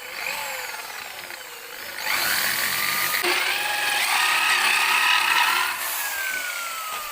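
Tool working into bamboo while building a simple bamboo bed, close and loud: a continuous grinding, rasping bore with squealing tonal whines, intensifying midway before easing off, with no talking.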